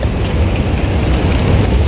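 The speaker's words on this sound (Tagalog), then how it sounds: "Umuulan" Dense, steady hiss of rain falling in Wan Chai Park, Hong Kong, with low rumbling underneath, continuous and close throughout.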